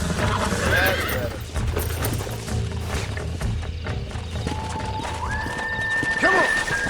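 A horse in the Red Dead Redemption video game whinnies loudly with a rising then falling neigh over hoofbeats and steady game ambience, and a second whinny follows near the end.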